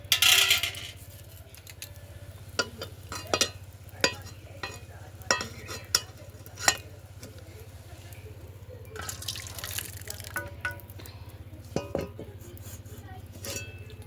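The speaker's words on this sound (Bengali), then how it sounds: "এবার ডালটাকে ঢেলে নেব।" Boiled lentils (dal) poured out of a pot in a home kitchen, a soft wet pouring and dripping with clinks of utensils, steady and close, no talking.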